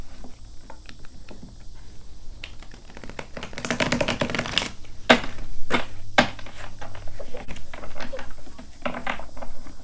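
A deck of reading cards being shuffled, quick papery riffles and dense crackling flutter in the middle, followed by a few sharp single card snaps over a soft background hum.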